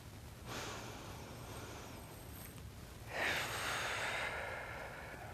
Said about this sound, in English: I invite you to take a deep breath with me